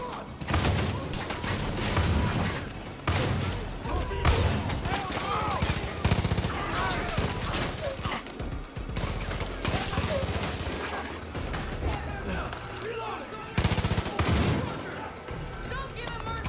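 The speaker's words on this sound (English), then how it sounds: "there's just a lot of gunfire and a lot of noise" Dense, sustained gunfire from the video game Far Cry 5, with rapid automatic bursts and sharp individual shots layered over heavy thuds, continuous and loud throughout.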